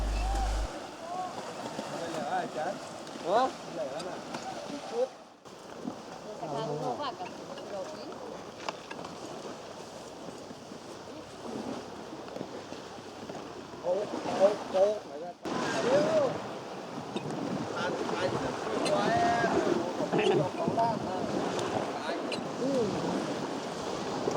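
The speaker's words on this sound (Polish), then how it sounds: "Przekraczamy rzekę Maetang, kierując się do dżungli na drugim brzegu." A boat crosses the Maetang River in Thailand with a steady engine and splashing rumble, wind buffeting the microphone, and people talking intermittently over it.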